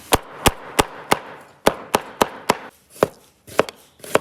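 A kitchen knife chops scallion and ginger on a cutting board in about a dozen crisp, close strikes, evenly spaced at first, then a brief pause before more uneven chops.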